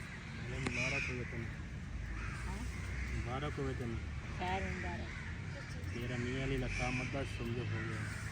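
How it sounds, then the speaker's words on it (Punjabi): Crows cawing outdoors in a village, harsh repeated calls in irregular bursts throughout, fairly close, over a steady background murmur. "ਸਿਰਫ ਕਾਂ ਹੀ ਬੋਲਦੇ ਆ ਬਾਕੀ ਕੋਈ ਚੀਜ਼ ਨਹੀਂ ਬੋਲਦੇ"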